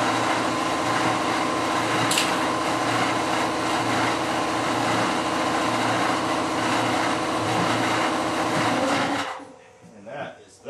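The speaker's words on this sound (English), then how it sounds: "of course the compressor would start running right in the middle of this" An air compressor in a workshop building an aircraft nose rib drilling fixture runs with a loud, steady motor drone and whine, then cuts off near the end with a few knocks.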